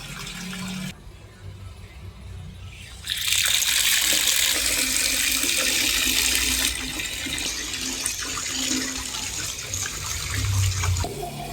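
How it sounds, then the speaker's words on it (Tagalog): Tap water running over mussels being washed in a sink, starting as a light trickle, then gushing loudly and steadily with splashing and clatter of shells, briefly easing before continuing. "Nililinisan lang namin saka yung hugasan."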